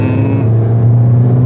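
A Lamborghini Murcielago SV engine drones loud and close with a deep, steady, sustained tone and slight changes in pitch, with no voices.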